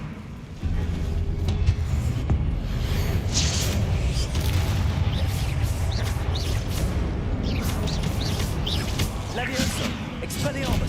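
Continuous magical combat in Hogwarts Legacy: Confringo fire blasts and other spell impacts booming one after another, a dense rumbling barrage with sharp cracks throughout, and a voice shouting the spell names over it.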